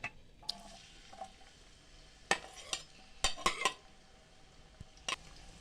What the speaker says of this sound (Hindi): अब हम इसमें प्याज शामिल कर देंगे।